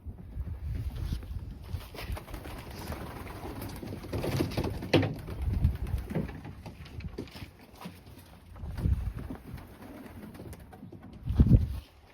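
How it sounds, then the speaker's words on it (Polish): Young Janssen de Klak racing pigeons coo softly in a loft, low murmuring calls rising in a few louder bursts against a faint steady background. "Piękny gołąb Jansen de Klack."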